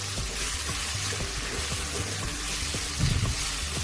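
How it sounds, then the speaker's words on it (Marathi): Taakla leafy greens sauté in a pan, giving a steady close sizzle with scattered stirring clicks and scrapes and a slightly louder burst near the end, with no one talking. "आता 2 मिनिट परतवून घेणार आहोत."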